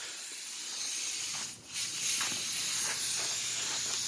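HVLP spray gun laying down 2K high build primer in a garage, a steady close hissing spray that pauses briefly midway before resuming.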